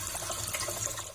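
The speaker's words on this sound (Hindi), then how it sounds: "अब टूटी के आगे इस तरह से मैंने वॉश कर लिया।" Greens, spinach and mustard leaves for sarson ka saag, rinsed under a running kitchen tap, giving a continuous close, loud splashing rush of water with no voices.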